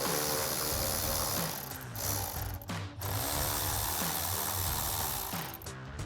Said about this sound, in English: we'll grab our 10 mil socket on our ratchet and go ahead and loosen those up